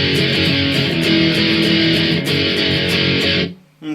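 Distorted electric guitar strums the chorus chords of a song in a driving, steady pattern, loud and alone, then cuts off abruptly near the end.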